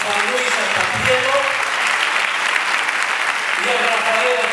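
Audience applause for a poem's author and the composer who set it to music, a steady broad clapping that fills the whole stretch, with a few faint voices and tonal traces mixed underneath.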